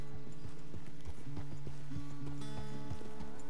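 Horse hooves clip-clop at a steady walking pace in the video game Red Dead Redemption 2, clear and close, with a low hum of music or ambience underneath.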